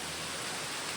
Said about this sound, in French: Bon j'ai dû quitter le point de vue car regardez il pleut là.